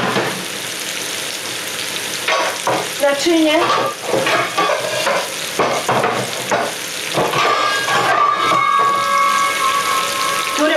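Sliced leek stews and sizzles in a pot while cookware clatters and a tap runs nearby, with a brief spoken word over the steady frying hiss.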